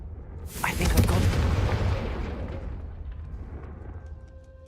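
A single booming spell blast from the Confringo fire spell in Hogwarts Legacy, a sharp bang that rolls into a long fading rumble; no talk over it.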